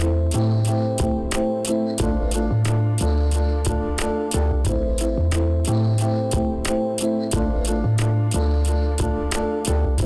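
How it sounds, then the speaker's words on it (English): A steady, loud drum loop with a snare drum cracking on a repeating pattern over thumping kicks and bright ticking hi-hats, continuing without pause. "this is what my snare drum sounds like"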